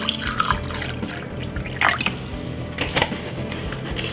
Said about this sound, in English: pop some water into this glass